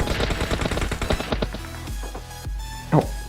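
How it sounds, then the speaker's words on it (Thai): Rapid automatic gunfire in the game PUBG Mobile rattles in a fast burst of close shots, followed by a few slower, spaced single shots and a brief thud near the end. "ด้านหลังก็มีเสียงปืนนะครับ"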